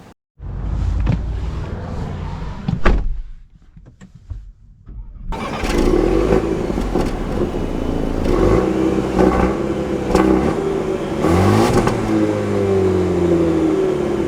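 A 2025 Land Rover Defender P300 110 with a four-cylinder engine starts and runs, then pulls away after a brief quiet pause, its engine note rising loud and close as it accelerates.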